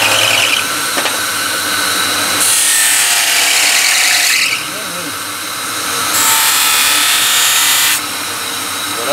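A knife blade is pressed against a spinning cotton buffing wheel loaded with tallow and emery, giving a bright hissing whir in two sustained passes over a steady motor hum, close and loud.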